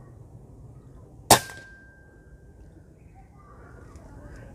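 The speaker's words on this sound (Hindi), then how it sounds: "पहले शॉट खेलते हैं प्रो मैग्नम के साथ। Safety of" A Hatsan Nova Tact .22 PCP airgun fires a Pro Magnum pellet, a single sharp, loud crack with a brief ringing tail, against a quiet background with faint room noise.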